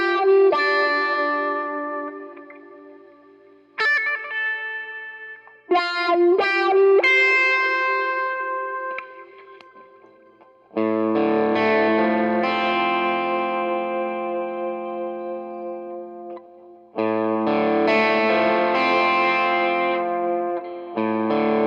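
A baritone Telecaster electric guitar plays a twangy spaghetti Western line, with plucked notes ringing out and decaying, then heavier sustained chords that swell under reverb and effects.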